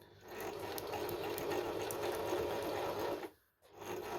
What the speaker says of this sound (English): So I'm at the sewing machine now